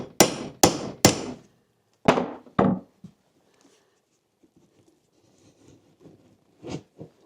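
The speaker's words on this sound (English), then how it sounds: "hammer this into the wall, and this thing just plucks them out like nothing." Five sharp hammer strikes ring out close by as a nail puller is driven into a cabin wall, three in quick succession then two more, followed by quieter scraping and a couple of light knocks.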